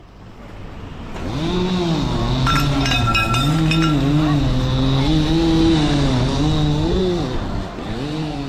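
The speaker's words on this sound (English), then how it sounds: "That's the sound of an armed drone whizzing above Kyiv on Monday." A loud droning buzz with wavering pitch as an armed drone passes overhead above Kyiv, swelling and dipping steadily, with faint clinking near the start.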